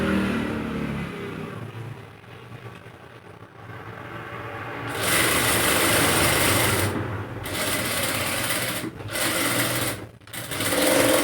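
A sewing machine stitches kurta fabric, a steady close mechanical whir running in long bursts broken by brief pauses, with no voices.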